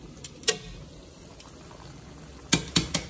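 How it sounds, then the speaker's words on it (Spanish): Pork frying in a pan as its water cooks off gives a constant soft sizzling hiss, broken by a few sharp pops and crackles near the start and end. "Ahí solita se va a ir friendo."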